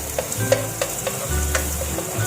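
Garlic and Chinese sausage stir-frying in plenty of oil, a steady close sizzle with regular spatula scrapes and taps against the pan.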